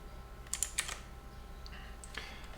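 A few quick keystrokes on a computer keyboard come in two short bursts, a cluster of close clicks followed by a softer pair, over a quiet room hum.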